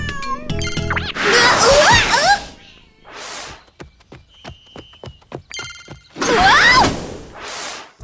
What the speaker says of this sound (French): Non mais je comprends pas encore le langage miaou.